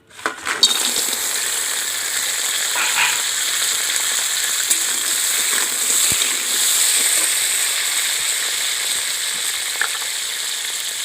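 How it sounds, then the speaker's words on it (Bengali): Cut crab pieces drop into hot oil in a pan and sizzle loudly, a steady bright crackling hiss that holds evenly from start to finish after the first splashy burst. "এবার কেটে রাখা কাঁকড়াগুলো আমি তুলে দিচ্ছি ভাজার জন্য।"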